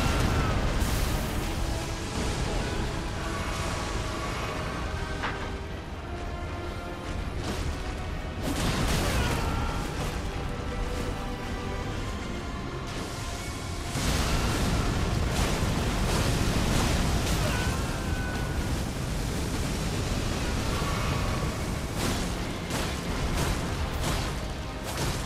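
A boss's fire attacks in Elden Ring keep rumbling and booming without a break, loud and dense, with a few stronger bursts standing out from the steady roar.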